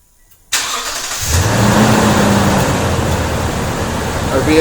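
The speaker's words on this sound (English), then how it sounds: "And now I'm going to remote start the vehicle." A 2010-2017 Toyota Tundra engine starting by remote start: after a short quiet pause the engine catches abruptly, then settles into a loud, steady idle, close by.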